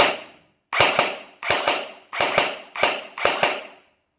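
Five loud, sharp shots fired one at a time at a steady pace from an ARES Amoeba AM-015 airsoft rifle at 350 fps, each a snappy pop with a quick mechanical double crack, close up.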